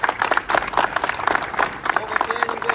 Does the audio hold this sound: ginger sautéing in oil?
no